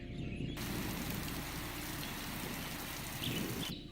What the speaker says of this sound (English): When the rain begins, the ground softens again.